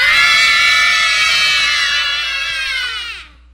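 A group of people yelling together on a count to knock over a piece of paper, one loud sustained shout from many voices that holds steady, then fades and cuts off.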